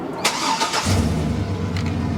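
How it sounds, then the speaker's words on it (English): A Chevrolet Silverado Super Sport truck engine cranks briefly and catches, then settles into a steady, low, rumbling idle, heard close up with no talking. "Let me start this thing up so y'all can hear it"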